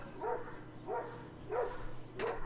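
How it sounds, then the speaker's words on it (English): Dogs bark in the room in four evenly spaced, moderately loud bursts, each a short run of barks close by. "talk over barking dogs"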